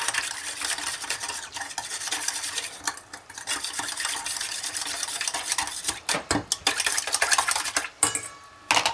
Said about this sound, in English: I'm going to give it a tiny whisk together